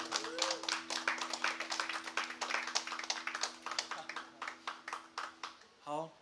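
An audience claps in a quick, fairly regular rhythm to welcome a performer, quiet and somewhat distant over a low electrical hum, before a short voice is heard at the end.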